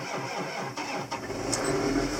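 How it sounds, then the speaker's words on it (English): A John Deere 8530 tractor engine cranking and trying to start outdoors in cold weather, a steady mid-pitched churning with a couple of brief bursts, heard alone. "So, I'm going to go ahead and start the tractor up."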